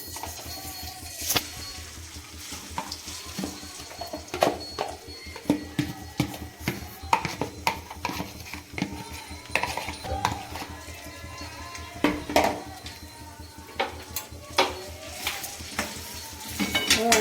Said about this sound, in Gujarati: હવે આપણે ઘી ગરમ મૂકી દીધું છે એની અંદર હવે હળદર શેકવા નાખશું